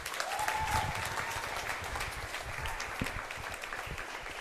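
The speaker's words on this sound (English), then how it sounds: "Let's give him a round of applause, everybody." A crowd at a high school college signing event applauds a coach, steady, even clapping from many people, continuing at a moderate level for the whole stretch with some crowd murmur.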